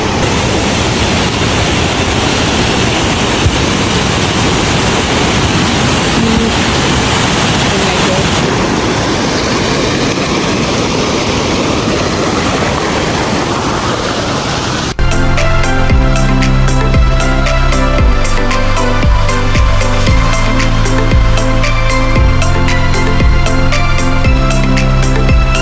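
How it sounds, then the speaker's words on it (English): A waterfall at Plitvice Lakes, Croatia roars in a steady, dense rush of falling water, loud and close, until music abruptly takes over partway through. "This is a waterfall."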